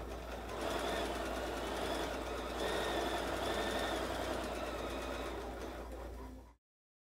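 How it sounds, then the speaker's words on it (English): Sewing machine stitching a quarter-inch seam on a quilt-as-you-go insulated shopper tote, running at a steady, rapid hum for about six seconds before cutting off abruptly. "I'm ready to sew."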